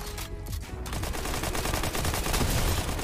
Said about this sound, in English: I swear this kid's literally shooting me